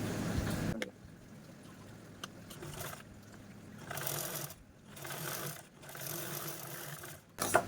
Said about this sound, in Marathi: आणि यावरती पुन्हा आपण अशा प्रकारे टॉप स्टिच देऊन घेऊ।